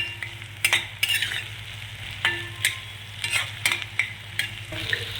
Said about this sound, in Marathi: आता मी हा वटाणा टाकणार आहे, याच्यात परतून घ्यायचा थोडा